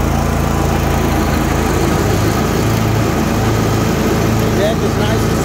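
Troy-Bilt Mustang RZT 60-inch zero-turn riding mower running close by with its cutting blades engaged, giving a loud, continuous engine roar and whirring deck hum that holds steady throughout.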